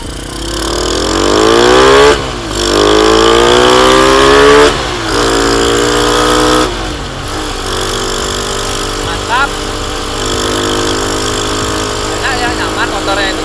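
A Honda C70 motorcycle fitted with a Suzuki Satria FU150 engine rides along loudly, its engine droning and revving with gear changes and brief throttle dips, close and continuous, with someone talking over it.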